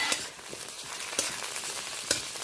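Chopped tomato going into a pan of softened, lightly browned frying onions for a prawn and snake gourd curry, giving a steady close sizzle with faint crackles and the occasional stir, no voices.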